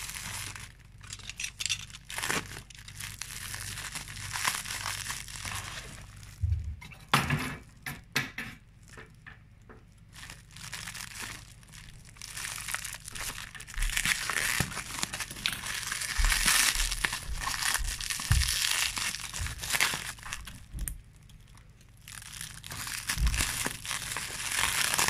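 Thermal insulation wrapping from a shrimp parcel is unwrapped, giving close, continuous crinkling, crumpling and tearing with scattered soft bumps and thuds.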